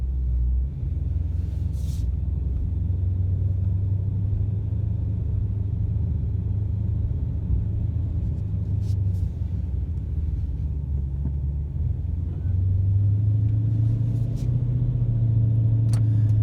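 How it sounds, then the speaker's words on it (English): Low, steady engine rumble and road noise inside a moving 2017 Dodge Challenger T/A 392, continuous throughout with a few faint clicks. "Just so you can hear the inside of the car."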